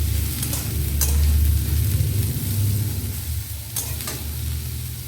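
Bitter gourd and onion frying in a pan, a close, steady sizzle with a low bubbling rumble and a few sharp stirring scrapes, no voices over it.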